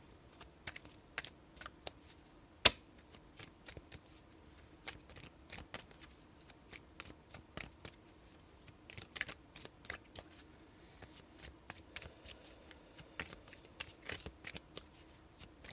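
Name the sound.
tarot cards being shuffled for a reading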